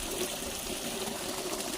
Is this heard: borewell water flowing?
yes